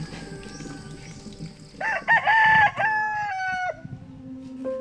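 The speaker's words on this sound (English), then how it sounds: "When the rooster crows, Aida Proceso wakes her family." A rooster crows at dawn in a rural Philippine village, a loud, close cock-a-doodle-doo with a drawn-out middle, followed by softer clucking from nearby fowl.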